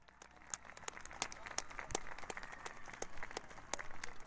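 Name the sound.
round of applause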